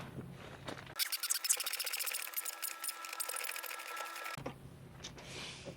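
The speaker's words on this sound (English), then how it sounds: "I got your impact wrench right here." An impact wrench runs on bolts of a car left abandoned in a scrap yard for years, giving one loud, steady rattling burst of about three and a half seconds between quieter moments.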